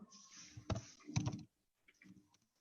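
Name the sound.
typing text on a computer keyboard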